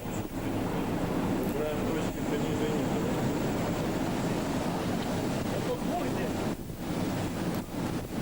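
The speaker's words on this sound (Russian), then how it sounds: "Я музыку специально не накладываю, чтобы слышать шум океана." Storm noise on the Atlantic Ocean in December, heard from a ship's deck: a constant roaring wash of wind and surf with heavy microphone buffeting, loud and unbroken throughout.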